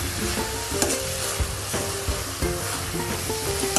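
Grated fresh coconut mixture for sweet barfi is stirred and sautéed in a pan, giving a steady close sizzle with repeated scraping strokes and soft knocks from the spoon, no talking.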